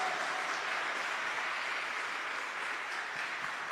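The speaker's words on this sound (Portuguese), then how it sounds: "Vamos aplaudir?" A church congregation applauds with steady, even clapping that holds at a moderate, slightly distant level throughout.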